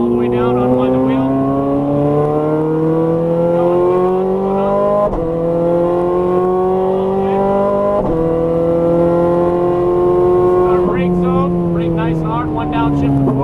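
A Ferrari F430 Scuderia engine at full throttle from inside the car, a loud, continuous rising wail climbing through the revs with brief dips at gear changes, while a voice talks over it.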